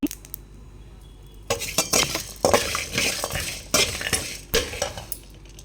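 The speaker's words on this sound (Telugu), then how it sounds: "ఇప్పుడు ఆనియన్స్ అయితే వేస్తున్నాను" Chopped onions hit hot oil in a pan with a burst of sizzling, followed by scraping and clinking of a spoon stirring against metal in repeated strokes.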